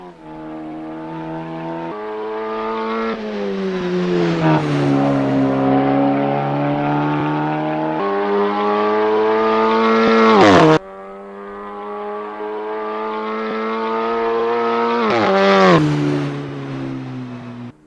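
A Seat Leon TCR touring race car in Assetto Corsa screams through the gears, the loud engine note climbing steadily with sharp drops at each upshift, heard alone and close throughout.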